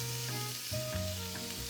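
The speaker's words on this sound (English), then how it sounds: "We're gonna do a tablespoon of olive oil, and we're gonna add our onion." Chopped onion sizzling in a tablespoon of olive oil in a skillet, a steady close crackle under a background of soft music tones.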